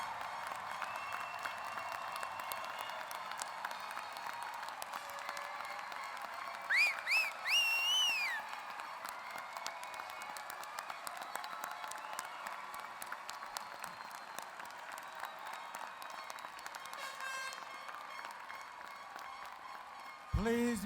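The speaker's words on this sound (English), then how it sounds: "please stand so that we can give you a round of applause" Relatives and supporters at a 2016 arts, education and physical sciences commencement ceremony receive a long stretch of soft, distant applause from a large hall crowd, with brief louder bursts and faint cheers partway through.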